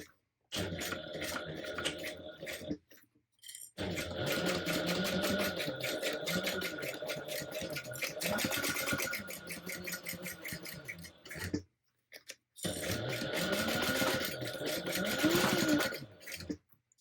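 A sewing machine stitches a fabric handbag in long continuous runs, stopping briefly a few times between bursts of steady mechanical whirring.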